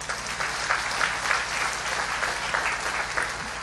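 Applause from an audience at a Buddhist talk, a steady, fairly distant patter of many hands clapping that holds evenly throughout with no voices over it.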